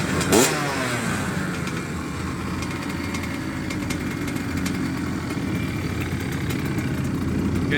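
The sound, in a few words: 2004 Honda CR85 motorcycle engine running at first startup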